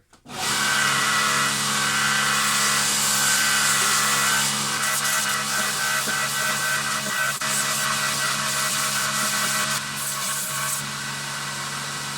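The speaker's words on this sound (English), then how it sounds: "I've got a belt sander" A belt sander grinding a golf club groove sharpener, a loud, continuous abrasive whine and rasp that runs steadily throughout, close up and alone.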